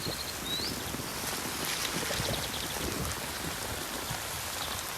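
Heavy rain pours down on a flooded riverbank at a Ganges ghat, a dense, loud, continuous hiss of drops striking water and ground with no talking.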